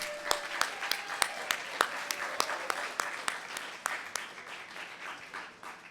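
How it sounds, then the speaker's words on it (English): Hands clap at a college EOPS graduation ceremony: sharp, distinct claps land roughly twice a second in a loose, steady rhythm over a faint, diffuse room wash, fading slightly toward the end. "keep clapping"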